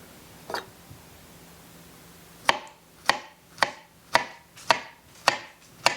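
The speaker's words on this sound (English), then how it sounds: "It just requires a good amount of chopping" Food being chopped on a cutting board for dinner in a homestead kitchen: one light knock, a pause, then seven evenly spaced, crisp knife strikes close by, fairly quiet overall.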